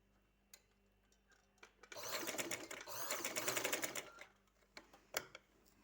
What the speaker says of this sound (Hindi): यूँ कपड़े को अंदर की तरफ फोल्ड करते हुए यूँ हम इसको सिलाई कर लेंगे।